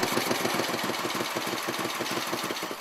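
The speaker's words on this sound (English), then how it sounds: "Nice quiet motor" A 1974 Moto Guzzi Eldorado Civilian motorcycle idles on its stock exhaust, a steady, close, even low thumping pulse with a quiet mechanical rhythm and no voices over it.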